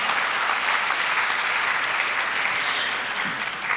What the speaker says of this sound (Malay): Kita beri tepukan gemuruh kepada PT-PTN, ya.